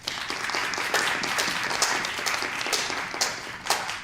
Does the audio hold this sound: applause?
yes